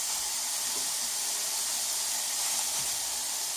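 Ground meat browns in a pan for Puerto Rican–style baked ziti, making a steady, even sizzling hiss at close range that stays constant throughout, with no talk.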